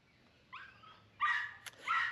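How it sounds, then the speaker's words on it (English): Several dogs in Nicaragua bark and yip excitedly from a moderate distance, with a short whining call followed by two louder bursts of barking. "And these dogs are going absolutely crazy."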